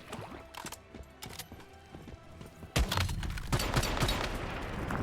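Pistol shots ring out at minions in the survival shooter Once Human, a few sharp separate cracks at first, then a louder cluster of rapid gunfire and impacts in the second half, with no talking.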